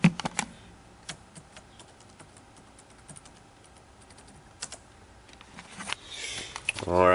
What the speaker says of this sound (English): So let me type that in for just a minute.